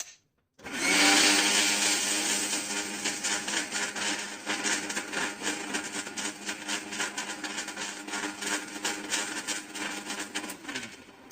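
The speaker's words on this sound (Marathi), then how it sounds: "हे ओलं खोबरं आपल्याला आता मिक्सरला वाटून घ्यायचंय" A mixer grinder starts up and whirs loudly and steadily grinding fresh coconut with water, its motor whine fluctuating slightly as the contents churn, running alone without talk.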